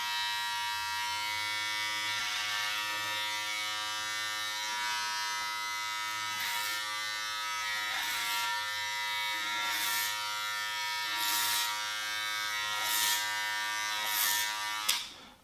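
Electric hair clipper buzzing steadily while it cuts men's hair over a comb, a close, continuous motor hum with strokes that brighten and swell as the blades pass through the hair, and no voices.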